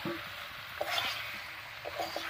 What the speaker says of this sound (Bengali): এবার চিকেনের সঙ্গে একটু কষিয়ে নেব।